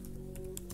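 A few soft keystrokes tap on a computer keyboard, faint and quick over a low background hum.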